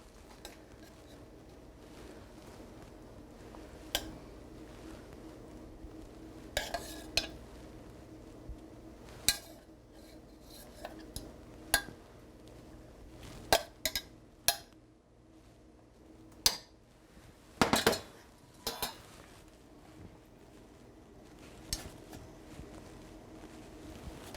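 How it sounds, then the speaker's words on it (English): A spoon scooping sauce in a pan, quiet scraping with a series of sharp metallic clinks and taps scattered over a hushed kitchen background. "we're going to spoon some of the sauce"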